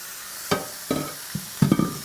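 Pork mince breaks apart and sizzles in a hot pan for paleo fried rice, a few separate scraping, stirring bursts over a low frying hiss.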